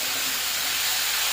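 Vegetables dropped into a hot pan while cooking fish curry, a loud, continuous, steady hiss of sizzling oil.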